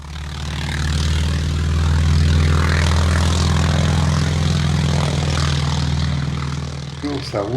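A North American T-28 propeller plane's engine roars steadily at full power for takeoff, loud and close, with a deep sustained drone and buzzing harmonics; the roar eases slightly at the end.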